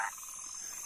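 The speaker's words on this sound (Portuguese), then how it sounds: "Parece que aqui tem uma orquestra de sapo." Frogs croak in a soft, pulsing chorus at night on a rural farm, faint and continuous against a steady high insect-like hiss, with no voices.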